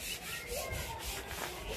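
Steady rubbing and scrubbing of an outdoor surface during household cleaning, a continuous abrasive swish with a soft repeating rhythm, moderately close and fairly quiet, with no talking.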